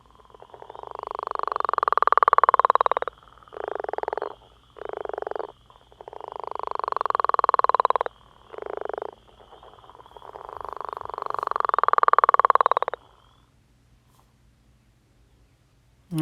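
Three long, snoring, rattling northern leopard frog calls, each followed by a few shorter grunting bursts, loud and close, then quiet at the end.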